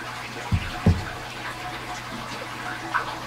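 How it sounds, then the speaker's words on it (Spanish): Cherry syrup, a quarter cup, is poured into a homemade holiday drink: two soft knocks of the container, then a gentle continuous liquid stream, close and fairly quiet. "un cuarto de taza de jugo de almíbar de las cerezas"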